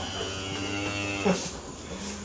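A cow on a farm gives one long, loud, close moo that swells and fades, with no talk over it.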